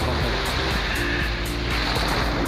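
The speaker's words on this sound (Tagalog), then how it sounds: "Lakas ng alon" Heavy surf crashes steadily at Dumaguit Port in Aklan, Philippines, a loud continuous wash of breaking waves with wind buffeting the microphone.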